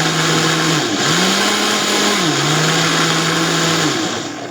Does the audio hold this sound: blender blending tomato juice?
yes